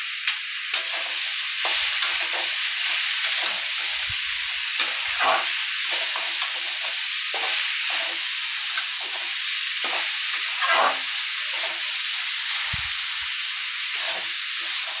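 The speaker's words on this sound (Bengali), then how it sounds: "হলুদ দিয়ে এবার আমি এটা ভালো করে একটু সাঁতলিয়ে নেব।" Bottle gourd with turmeric sautés in a pan, giving a continuous bright hiss of frying with repeated scraping stirs throughout, steady and close with no voices.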